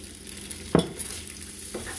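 Eggs with tomato cooking in a frying pan, with a soft continuous sizzle and one sharp utensil clink against the pan partway through, then a lighter tap later on.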